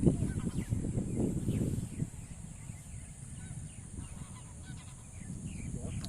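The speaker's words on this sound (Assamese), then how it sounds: "সেইফালেদি ৰাজহাঁহৰ মাত শুনিছোঁ।" Geese honk at a zoo in Pohugarh, Sivasagar, Assam, a rapid series of nasal calls that carries through the first two seconds and then fades to scattered honks over outdoor ambience and a high steady insect-like tone.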